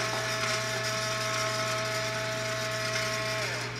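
Motorized rotor of a Pinokio paintball hopper whirring and ratcheting continuously with a steady mechanical hum and clicking, close and fairly loud, winding down slightly at the end.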